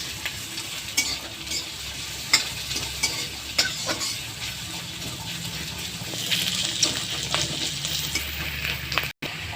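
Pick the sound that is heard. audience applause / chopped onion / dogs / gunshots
chopped onion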